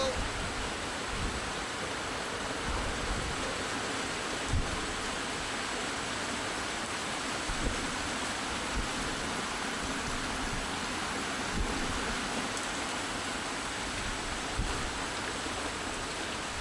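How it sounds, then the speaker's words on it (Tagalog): Heavy rain pours down during a typhoon amid a power outage. A steady, dense roar of rainfall continues unbroken at an even level, with only small bursts of louder splashing. "Malakas na ulan mga kadyano."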